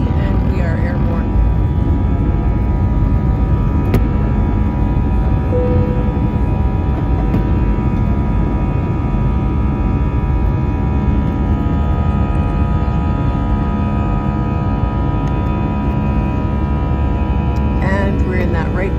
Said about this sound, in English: About a 30-second taxi and we are airborne.